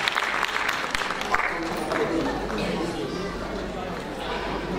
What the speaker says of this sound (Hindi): तालियों के साथ अभिवादन